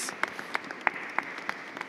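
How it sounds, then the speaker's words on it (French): Scattered claps ring out in a church at a parish talent show, a handful of distinct slaps spaced across two seconds rather than a full ovation, fairly close and echoing slightly. "je crois qu'on peut vous applaudir tous"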